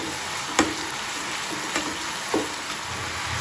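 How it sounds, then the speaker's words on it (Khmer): Beef tongue stir-fried with red ants in a pan, a steady sizzle with faint scraping stirs every second or so, close and alone with no voices. "សម្រាប់សាច់យើងអាចឆាវាគង់ថាជា3ទៅ5នាទីឲ្យវាឆ្អិនល្អ"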